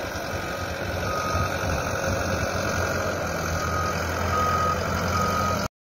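A heavy excavator-loader engine rumbles steadily while clearing snow, a steady reversing beep repeating throughout, loud and close, cutting off abruptly at the end.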